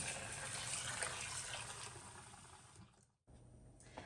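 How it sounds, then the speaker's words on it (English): Cold tap water gushes steadily from a faucet into a bowl being filled to cover almonds for homemade almond milk, a loud continuous rush that briefly cuts off near the end, then resumes. "Then we're going to fill the bowl with cold tap water."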